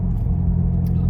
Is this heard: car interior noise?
yes